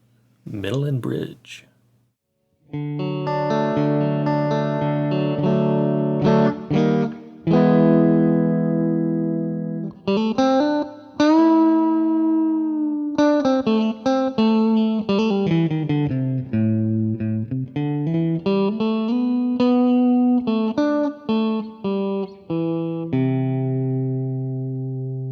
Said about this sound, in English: Alright, clean tones, middle and bridge.